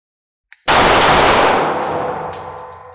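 A rifle with a binary trigger fires outdoors at a range. After a small click, one loud, sharp report rings out and decays slowly over a couple of seconds, with faint metallic pings behind it. No one speaks.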